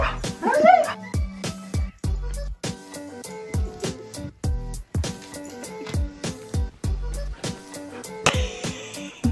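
A small dog yips and whimpers in short repeated bursts, close by, over music with a steady beat and some talking, at a ski setting.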